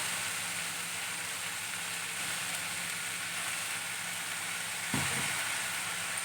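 Vegetables tossed with masala fry in a pan, giving a steady, even sizzle throughout with a brief stir or clatter near the end.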